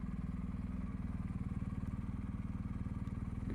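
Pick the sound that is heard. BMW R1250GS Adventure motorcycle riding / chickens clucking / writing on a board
BMW R1250GS Adventure motorcycle riding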